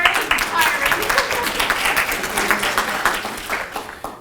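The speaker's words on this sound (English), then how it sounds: "So I want to applaud all of our amazing racers." An audience at an honors awards event applauds the racers, giving dense, steady clapping from start to finish with faint voices mixed in underneath.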